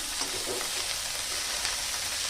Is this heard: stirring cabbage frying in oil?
yes